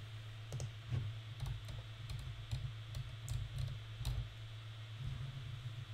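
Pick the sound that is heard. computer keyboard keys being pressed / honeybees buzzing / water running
computer keyboard keys being pressed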